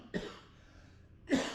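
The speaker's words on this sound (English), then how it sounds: "there's that little COVID cough again" Two short, close coughs about a second apart, the second one louder, with quiet in between.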